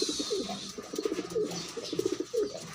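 Pigeons coo close by in a run of low, throaty, rolling calls that repeat steadily with short breaks between bursts. Soft background noise sits underneath.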